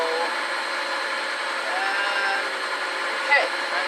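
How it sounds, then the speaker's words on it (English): A Sunbeam MixMaster stand mixer whirs steadily at medium speed through carrot cake batter, a continuous even motor drone with a brief louder bump near the end. "We're on speed 6 out of a 12-speed mixer, so that's medium."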